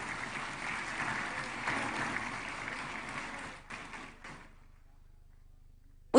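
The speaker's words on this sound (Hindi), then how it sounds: "हम सबकी ओर से एक बार पुनः तालियों की गूंज के साथ इन सभी का अभिनंदन।" A ceremony audience applauds steadily, then the clapping thins and breaks off around the four-second mark, leaving near silence and a faint low hum before a sudden loud sound at the very end.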